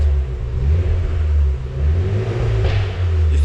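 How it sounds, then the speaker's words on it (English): A cold Renault Sport Megane Trophy R race car engine idles with a deep, loud rumble, rising briefly in a gentle rev before settling back. "I don't want to rev it too much because the car is cold."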